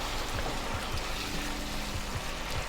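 Water trickling and splashing as it is poured into chicken mince cooking in a pan, a steady close stream with faint pattering throughout.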